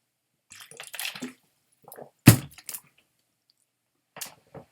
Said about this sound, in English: Now I have water all over my desk.